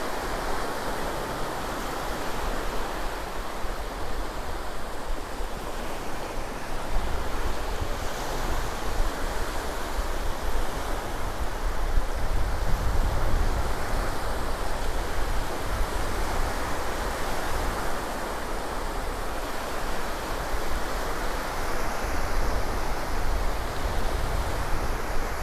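Ocean surf washing up on the sand at Indian Rocks Beach, Florida, a steady broadband wash of breaking waves with wind noise, continuous and fairly loud throughout with no talk.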